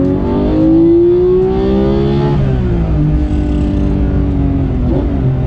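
A manual Porsche 991 GT3 on track, its flat-six engine rising in pitch under loud, close acceleration, a gear change cutting in midway before the revs climb again.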